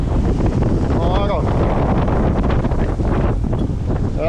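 Strong wind gusts over 40 knots buffeting a sailboat, with a loud roaring rush into the microphone that stays heavy throughout, while a voice speaks briefly.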